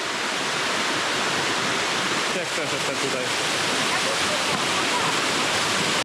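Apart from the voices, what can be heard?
waterfall in the Eastern Fjords of Iceland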